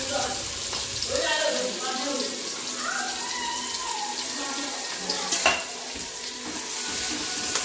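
Chopped onion frying in butter and oil for pav bhaji, a steady close sizzle with stirring scrapes and a brief clatter near the end, faint voices underneath.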